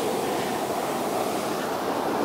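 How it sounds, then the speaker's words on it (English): Ocean surf washing up a beach near Perth after unusually high waves, a steady loud roar of breaking water with wind rumble, continuous and close, with no voices. "These waves must have been huge."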